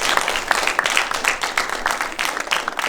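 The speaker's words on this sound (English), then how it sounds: "Please give our panelists a round of applause." Audience applause for a panel discussion, dense continuous clapping from a seated crowd that stays lively and even throughout.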